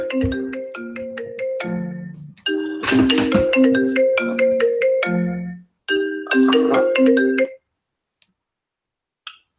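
A phone ringtone plays a bright, melodic electronic tune in two or three repeated bursts, loud and close, then cuts off into silence.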